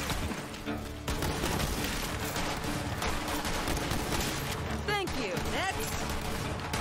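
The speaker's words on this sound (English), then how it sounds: "They're shooting at me." Enemies in Borderlands 3 fire a steady stream of gunshots, with bursts and crashes of weapon noise mixed with game music and effects, moderately loud throughout, including a couple of whooshing sweeps near the end.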